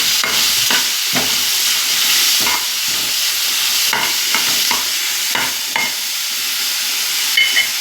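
Onions frying in a pan for spicy corn chilli being stirred, a loud steady sizzle broken by repeated sharp scrapes and clacks of the spoon against the pan, no voices.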